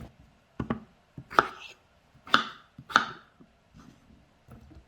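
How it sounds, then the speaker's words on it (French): Potatoes being cut into small pieces with a knife: a handful of sharp, separate chops on a board, close and irregularly spaced, with quiet pauses between them. "je coupe les pommes de terre en petits morceaux"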